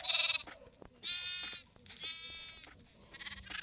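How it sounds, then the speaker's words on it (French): A baby sheep in Minecraft bleats several times in quick succession, short wavering cries that are close and fairly loud, with brief gaps between calls. "il y a un bébé mouton"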